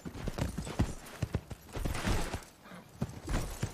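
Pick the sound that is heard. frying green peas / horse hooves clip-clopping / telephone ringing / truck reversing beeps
horse hooves clip-clopping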